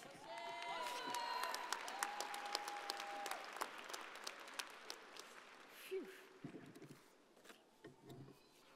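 Sustained applause from a commencement ceremony crowd honouring doctoral candidates, dense clapping filling the hall, with a voice speaking over it partway through.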